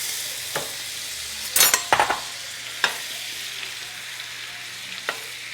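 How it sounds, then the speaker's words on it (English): Two pounds of butter melting in a skillet over medium heat for a shrimp boil, with a faint steady sizzle broken by scattered utensil clinks and a short burst of stirring scrapes near the middle. "now we're going to be melting 2 pounds of butter."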